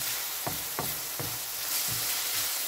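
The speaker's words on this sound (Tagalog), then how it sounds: "So, ginisa na tauge." Mung bean sprouts being sautéed in a pan, giving a steady background sizzle broken by several soft stirring scrapes, with no talking.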